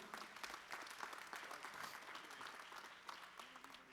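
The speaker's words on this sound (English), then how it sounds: "Give them a round of applause, ladies and gentlemen." A conference audience at a closing ceremony applauds the organizing team, a dense, steady wash of many hands clapping at moderate distance and fairly low volume, continuing evenly without letup.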